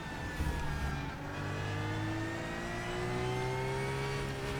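A race car in the Raceroom racing video game, its engine droning steadily and climbing in pitch as it revs through the gears, loud and continuous with no talk.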